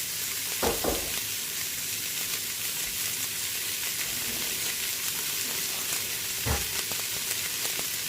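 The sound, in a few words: onions and carrots sautéing in hot oil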